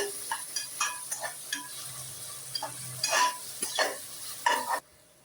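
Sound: sautéing onions and tomatoes with salt in oil

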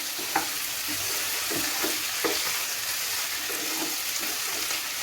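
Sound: chicken chukka being stir-fried in a pan

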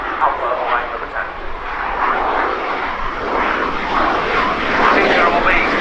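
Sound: Saab JAS 39 Gripen jet engine during air display

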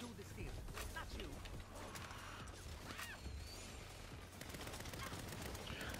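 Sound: gunfire in the video game Saints Row

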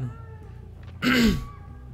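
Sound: crow cawing in the video game The Legion

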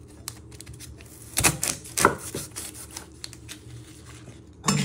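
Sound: knife chopping ends off a vegetable

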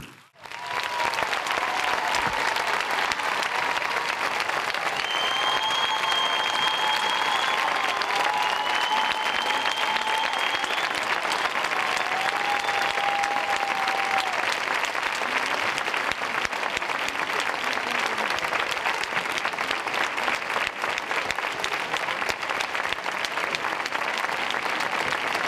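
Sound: crowd applause after a fair speech

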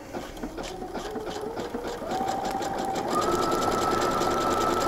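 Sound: sewing machine stitching fabric

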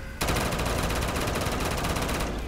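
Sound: gunfire in Black Ops 3 custom zombies video game

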